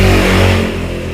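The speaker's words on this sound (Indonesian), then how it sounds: "tadi ada motor lewat" A motorcycle passes close by on the road, its engine loud and droning at first, then easing off and fading as it moves away, with no talking.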